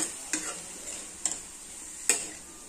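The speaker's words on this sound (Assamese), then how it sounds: "বৰ্তমানলৈকে মই গেছটো হাইত ৰাখিয়ে ভাজি আছো" Chopped ginger and garlic fry in a pan over a high gas flame, a faint steady sizzle broken by three sharp clinks of a spatula stirring against the pan.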